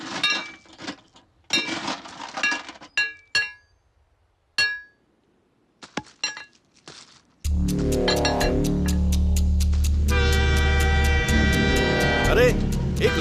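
A train approaches on a railway track in a dramatic film scene: scattered sharp clinks and knocks, then a loud, sustained, horn-like blare over a heavy rumble that holds to the end.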